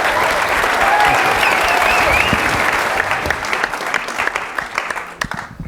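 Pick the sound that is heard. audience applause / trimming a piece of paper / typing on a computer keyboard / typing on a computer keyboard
audience applause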